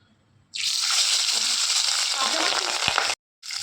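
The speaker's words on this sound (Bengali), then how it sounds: "এই যে তেলের মধ্যে দিয়ে দিচ্ছি আর হ্যাঁ পাবদা মাছ কিন্তু খুব ফোটে" Pabda fish slid into hot oil in a pan sets off a sudden loud, hissing sizzle that holds steady for a few seconds, cuts out abruptly, then returns.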